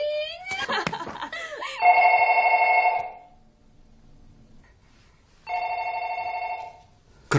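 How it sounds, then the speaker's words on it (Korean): An old-style telephone bell rings in two loud, insistent bursts separated by a quiet pause, preceded by startled voices and a short snicker in a horror-film scene. "갑자기 울리는 전화 벨소리에 도모코와 친구가 깜짝 놀라고"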